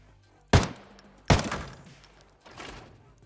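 Bullets strike a helmeted mannequin in the Arena Breakout Infinite shooter: three sharp, heavy impacts about a second apart, the first two loud and punchy with a cracking edge, the third softer, each trailing into a short ringing decay.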